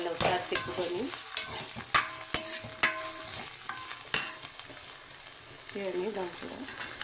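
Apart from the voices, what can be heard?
stirring potatoes and tomato curry frying in a pan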